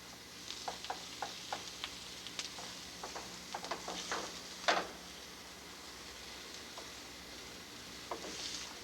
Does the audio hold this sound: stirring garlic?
yes